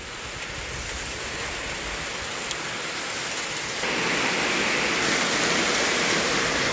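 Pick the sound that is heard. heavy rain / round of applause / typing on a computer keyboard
heavy rain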